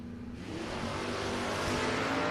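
Drag racing cars, a Chevelle and a Nova, at a dragway, a loud engine roar building steadily as they launch and accelerate, with no talk.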